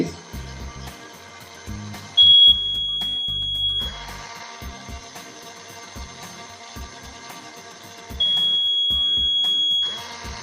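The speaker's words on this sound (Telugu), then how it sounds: "ఇది డిటెక్ట్ చేసి మోటార్ని అదే మోటార్ ఆఫ్ అయిపోయి అలానే మనకి ఇక్కడ బజర్ బ్లో అవుతుంది" A steady electronic buzzer alarm from a homemade IR-sensor anti-sleep device sounds twice in long bursts over intermittent clicking and motor noise as the motor switches off, fairly loud and close.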